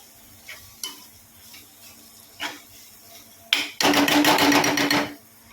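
A spoon stirs dried kingfish curry in a pan with a few short scrapes, then a louder sustained stir and sizzle for about a second and a half before it stops.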